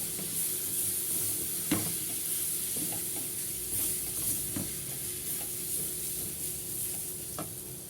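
Washed rice is stirred and turned in a hot pan, giving a steady sizzling hiss with soft scraping strokes at irregular intervals, close and fairly quiet.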